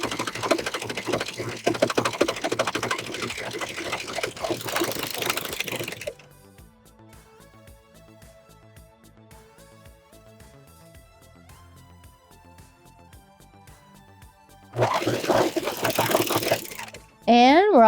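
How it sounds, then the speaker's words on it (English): A serger overlock sewing machine runs in fast, dense bursts while joining fabric scrap strips, stopping for a quiet stretch with faint background tones before whirring again briefly. "when we sew these strips together, you're going to notice that I am serging off those serge tails"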